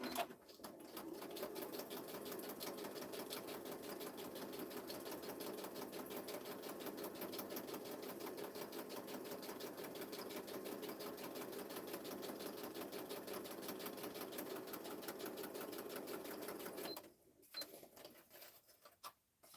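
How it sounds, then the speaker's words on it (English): Sewing machine stitching paper for a 3D paper cake project, a close, steady rapid mechanical chatter that runs continuously for about seventeen seconds, then stops with a few quieter handling clicks. "Right, I'm going to stitch these."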